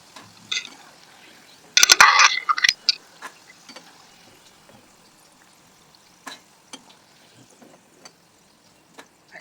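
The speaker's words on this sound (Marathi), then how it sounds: "म्हणून आपल्याला स्लो गॅसवरच हे तळायचे" Tomato triangle snacks frying in oil over a low flame: a faint, steady crackle with scattered sharp ticks and one brief louder sputtering burst early on.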